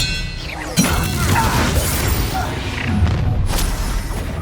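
Spell combat in the game Hogwarts Legacy as the Expelliarmus disarming spell is cast, a sharp magical crack and thump, then whooshes, clatter and booming impacts.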